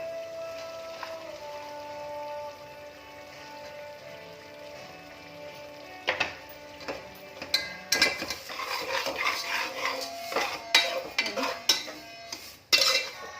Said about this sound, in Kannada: ಟೊಮೊಟೊ ಮೆಂತ್ಯ ಸೊಪ್ಪು ಎಣ್ಣೆಯಲ್ಲಿ ಫ್ರೈ ಹಾಕೋದು